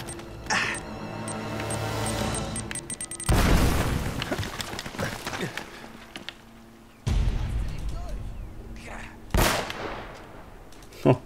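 Bursts of gunfire and booming blasts from the PS4 game Uncharted: Drake's Fortune, loud and repeated, with heavy impacts cutting in over a continuous game soundscape.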